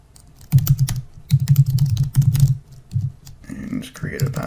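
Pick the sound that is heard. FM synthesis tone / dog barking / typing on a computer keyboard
typing on a computer keyboard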